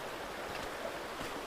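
River water flows steadily in Yosemite, a continuous close rushing wash over stones with no pauses and no voices.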